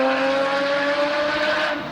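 Car engine exhaust through equal length headers, a flat-six like a Porsche GT3, giving a steady, loud, smooth droning note with a clear harmonic tone held throughout, near and continuous with no talk.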